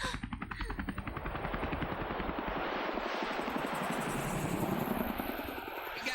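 A helicopter in the video game Persona 5 Royal, with a steady rapid rotor chop under a loud, dense wash of game noise that holds throughout.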